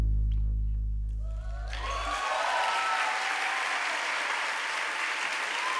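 A concert audience at a theater breaks into loud, sustained applause as a low musical note fades out, the clapping swelling into a dense, steady roar that fills the rest of the moment.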